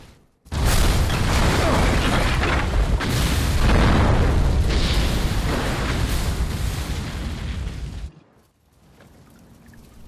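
An explosion in the video game Resident Evil 6 erupts as a loud, sustained roar with crackling debris lasting several seconds, then cuts off sharply into quieter game ambience.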